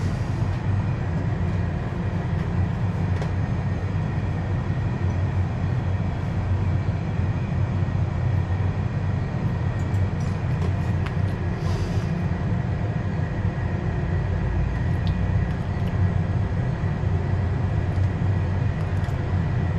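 An Airbus A320 applies a little thrust and rolls onto the runway before takeoff at Muscat, heard from inside as a steady, loud engine drone and broadband rumble that holds evenly throughout with no talk.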